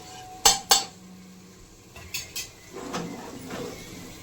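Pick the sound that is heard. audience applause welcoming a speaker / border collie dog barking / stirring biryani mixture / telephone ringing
stirring biryani mixture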